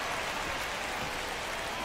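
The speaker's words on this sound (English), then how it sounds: "This rain is not letting up." Steady rain falls on a ballpark in the baseball game MLB The Show 25, a soft, even hiss that holds unchanged throughout with no voices.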